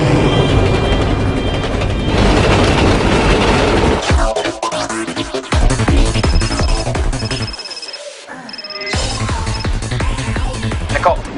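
A runaway train thunders down the track in a dense, loud, continuous rumble with clattering, briefly dropping away twice, mixed with bright ringing tones and some voices.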